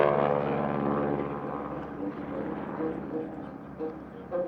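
A 1941 Super Stearman PT-17 biplane, built for the U.S. Navy, drones steadily during an airshow aerobatic demo, its engine hum rising and falling slightly as it passes, with no one speaking.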